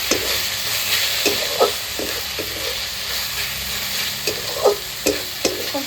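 Banana flower cooked with turmeric, salt and sugar in a pan, a continuous low sizzle broken by repeated scraping strokes of a spatula, each one close and moderately loud.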